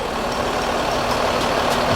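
A Sempati Star Adiputro Jetbus 2 Super VIP bus with a Mercedes badge idles close by, giving a steady, even engine rumble with a low hum throughout and no voices.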